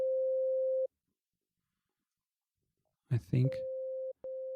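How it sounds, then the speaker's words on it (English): Two sine waves at the same pitch from the FL Studio 3xOsc synthesizer make a pure, steady mid tone. It plays, stops for a few seconds, returns under a short spoken phrase, and cuts out briefly before resuming. "if I put 2 sine waves"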